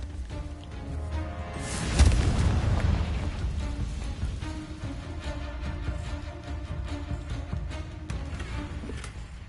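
A Confringo blasting spell goes off in Hogwarts Legacy: one loud boom about two seconds in, with a broad rumbling tail that fades into steady in-game ambience and faint music.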